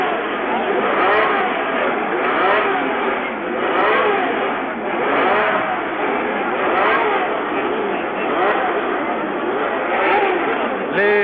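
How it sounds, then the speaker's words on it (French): Formula One engines from the 1970 Italian Grand Prix rev loudly together in rising and falling surges at the start, with a crowd behind and a commentator speaking over the engines throughout. "Les moteurs se sont mis en route."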